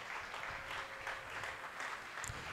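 A church congregation applauding at a Sunday service, a steady wash of clapping from many hands, fairly distant and even throughout with no clear voices over it.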